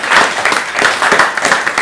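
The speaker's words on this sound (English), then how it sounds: "Please clap for him." Pupils in a classroom applaud a classmate with short, close bursts of clapping that pulse unevenly for a couple of seconds, fairly loud and with no talking over them.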